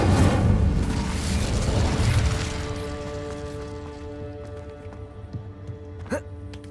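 A fiery spell cast in Hogwarts Legacy bursts as a loud low rumbling whoosh that gradually fades over several seconds, with a sharp pop near the end.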